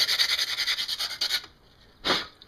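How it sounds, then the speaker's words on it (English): Sandpaper rubbing the ground-down rim of a Snow Peak metal pot, a quick run of rhythmic rasping strokes followed by a pause and one last short stroke, close and loud. "Grind that off. A little sandpaper there."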